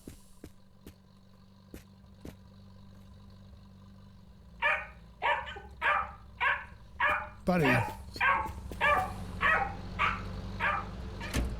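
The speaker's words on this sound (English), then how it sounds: "Dogs should start barking any minute now." Dog barking in the Drive Beyond Horizons video game: a run of about a dozen evenly spaced, loud barks close by, starting midway, with someone speaking briefly over them.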